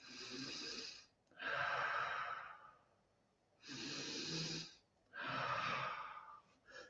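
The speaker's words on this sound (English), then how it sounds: "But I can also breathe on the side like this." A breathing instructor demonstrates deep breathing, taking slow audible breaths in and out through the airway, four long rasping breaths with pauses between them, close and clear with no talking.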